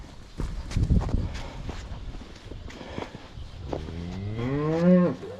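Shuffling hoof steps and thumps are followed by a long, deep cow moo swelling near the end, close and loud.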